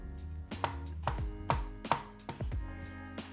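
A sharp Cutluxe cleaver chops vegetables on a cutting board in about eight crisp, evenly spaced thuds, close and clear with nothing else heard.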